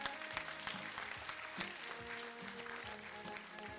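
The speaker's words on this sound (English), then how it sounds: "Let the cheering go on." Applause from an audience at a school scholar badge ceremony for fifth-grade students, a steady wash of clapping throughout with a faint tone under it and no voices.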